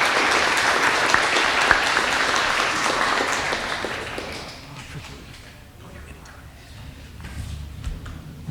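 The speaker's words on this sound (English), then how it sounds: "Please give a warm round of applause" An audience applauds a Court of Appeals nominee at an MLK college scholarship awards ceremony: sustained clapping from a crowd that tapers off midway, followed by quieter room noise with faint voices.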